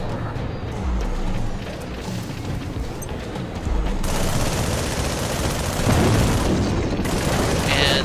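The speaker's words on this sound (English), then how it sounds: "I would push left on the D-pad to actually use the missile launcher, and I'll go ahead and use it" A mech's missile launcher fires in the arcade-style game Project Nimbus, with heavy booming blasts and rapid crackling bursts layered into a dense, loud barrage.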